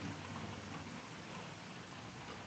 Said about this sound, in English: I just have always liked listening to the sounds of the rain.